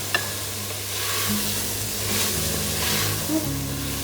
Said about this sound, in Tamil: இந்த டைமில் அந்த கட் பண்ணி வச்ச காய்கறிகளை சேர்த்துக்கலாம்.